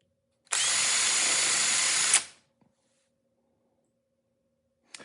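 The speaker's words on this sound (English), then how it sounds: "take my drill and then just ka-chunk, ka-chunk, ka-chunk, ka-chunk, ka-chunk, ka-chunk." A power drill driving screws into cabinet parts whirs in one sustained burst of about two seconds, then stops abruptly, followed by a couple of faint clicks.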